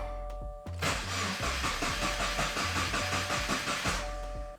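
A 2020 Subaru WRX with its fuel pump fuse pulled cranks over, the starter churning in a loud rhythmic whirr for about three seconds before cutting off without the engine catching, heard up close.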